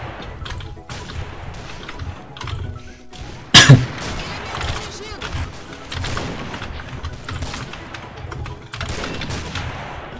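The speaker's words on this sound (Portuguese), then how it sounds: "Cada tiro nos ferros que eu dou aqui" Rapid gunshots in the online shooter Combat Arms: a steady stream of close, sharp shots and automatic bursts runs throughout, with one especially loud crack standing out near the start.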